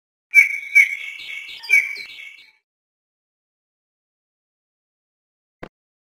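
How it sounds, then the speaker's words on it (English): A bullfinch gives a few soft piping whistled notes in a short, close phrase, followed by silence and a faint click. "Bullfinch."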